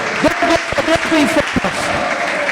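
Applause breaks out from a congregation at a Portuguese-language church service, a sermon on the ministry of angels. Scattered claps join a steady wash of clapping, while a voice talks and sings over it with cheering.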